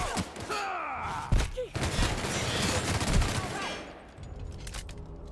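Rapid bursts of video game gunfire crackle through a dense firefight, sharp shots and thumps packed closely over a constant roar of action with groans mixed in.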